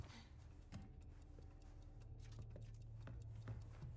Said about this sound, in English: I hear more clocks.